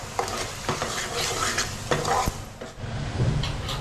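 Homemade masala is stirred and fried in a pan for mutton curry, with a continuous close sizzle broken by scraping strokes and occasional sharp clinks of the spoon against the pan.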